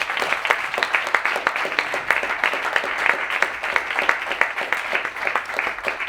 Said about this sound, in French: On applaudit Guy, s'il vous plaît